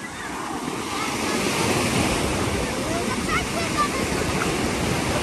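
Surf rolls in at a wide, long municipal beach in Stavros, Greece, a continuous close wash of breaking waves mixed with wind buffeting the microphone.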